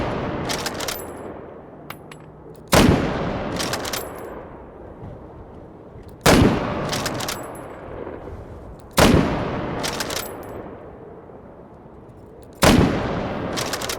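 Gunfire in the VR shooter H3VR during desert combat, five loud sharp shots spaced a few seconds apart, each ringing out with a long echoing decay.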